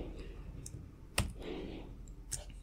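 A single sharp, close keystroke on a computer keyboard, like an Enter press, stands out against a quiet room, with a few faint clicks before and after it.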